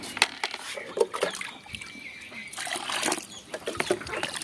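Water poured into pig feed for a home-raised pig, a loose splashing and trickling that comes in uneven spurts, with faint background noise and no talking.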